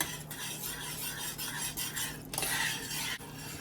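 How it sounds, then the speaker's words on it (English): A spoon scrapes and stirs boiling syrup in a pot for khadaif, close and continuous, with clinking against the pot and a faint bubbling underneath. "While it boils, make sure to keep stirring it until it has a thicker,"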